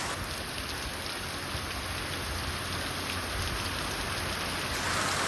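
Steady monsoon rain falling outdoors, a dense even hiss of drops on surfaces that stays constant and fairly loud throughout with no voices.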